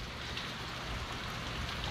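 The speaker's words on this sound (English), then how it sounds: "Now, it's been raining for about 10 minutes and the road is still steaming." Steady rain falls on a hot, steaming road in Florida, a dense even hiss of drops close by with no pauses and no voices.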